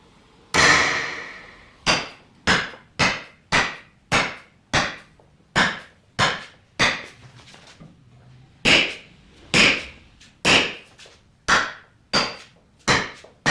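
A hammer taps down rivets on metal roof rails mounted to a rooftop tent, a steady series of about fifteen sharp, ringing strikes spaced roughly a second apart, close and clear with no talking.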